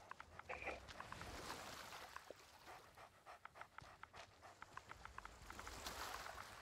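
Pet dog in the pirate video game Sea of Thieves panting rapidly in short rhythmic breaths, close and fairly quiet, with faint game ambience underneath.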